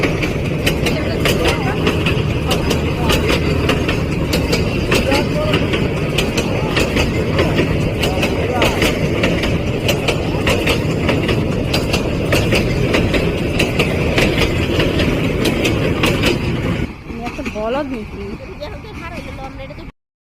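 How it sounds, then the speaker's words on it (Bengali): A train approaches and rumbles past close by on the tracks near Bhawal railway station in Gazipur, Bangladesh, a loud steady roar with rhythmic wheel clatter for most of the clip, easing off near the end as voices are faintly heard. "ওই যে ট্রেন আসতেছে"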